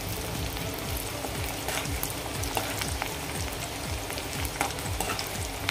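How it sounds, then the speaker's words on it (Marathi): Curry leaves crackle and spit in hot oil with onions for a Kolhapuri chicken curry, a loud, steady frying sizzle with scattered pops and stirring scrapes, no voices. "दहा 12 कढीपत्त्याची पानं घालते मी यामध्ये."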